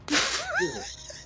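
A single sharp, hissy sneeze bursts out close by, followed by a brief voiced tail as the breath trails off.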